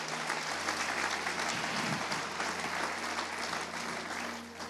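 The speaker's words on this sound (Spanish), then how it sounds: "Dele un aplauso al Señor," A church congregation claps in praise during a sermon, sustained loud applause filling the room evenly before tapering off slightly at the end.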